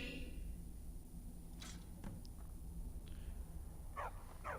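A dog in the game Skyrim gives a few short barks, a faint one early on and two clearer yips near the end, over a steady low ambient hum.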